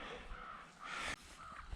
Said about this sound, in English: It's a crow, guys, up on a wire.